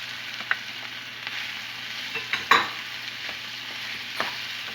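Potato, carrot and cauliflower pieces sizzle and crackle in hot oil while being stirred, a steady frying hiss broken by a few sharp clinks and scrapes of the spoon.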